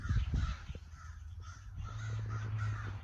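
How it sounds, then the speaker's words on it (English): Crows perched up in a tree caw repeatedly outdoors. The harsh calls come in a steady series at moderate distance over low background rumble. "There's birds up in that tree."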